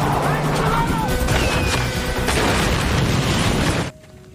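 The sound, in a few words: car explosion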